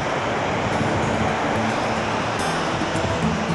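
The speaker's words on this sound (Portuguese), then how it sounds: "As ondas ali, ó." Sea waves washing onto a beach at Algodões on the Maraú Peninsula in Bahia in the late afternoon, a steady broadband roar of surf with some wind noise, no talk.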